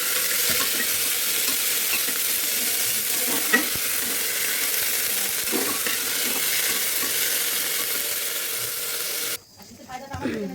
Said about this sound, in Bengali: এরপর আদা কুচি দিয়ে নাড়াচাড়া করতে হবে সবজিগুলো